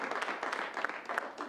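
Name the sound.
scattered audience applause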